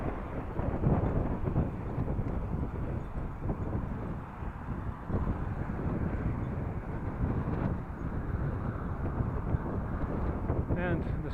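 Headwind buffets the microphone of a cyclist riding near Groningen, making a continuous low rumbling roar that stays steady and moderately loud throughout.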